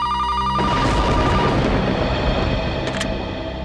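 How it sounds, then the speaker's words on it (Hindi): A telephone bell ringing late at night indoors, loud and clear at first, then cutting off into a busy dramatic scene sound. "दिन में तो कभी फोन की घंटी बजती नहीं।"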